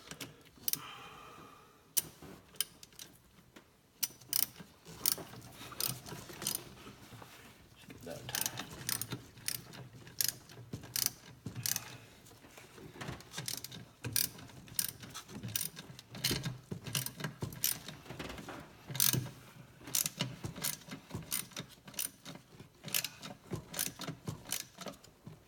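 A ratchet tightening a bolt on the 4.0 SOHC engine of a 1999 Ford Explorer during a valve cover gasket job, with irregular clicking bursts and metallic ticks spread throughout, fairly close and moderately loud.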